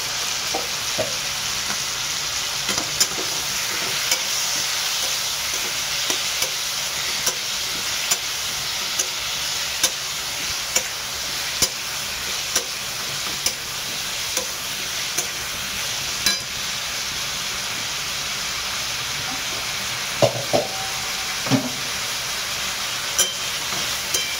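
Whole spices frying in hot oil in a pan, a steady close sizzle and hiss with faint scrapes of stirring and a couple of brief knocks near the end.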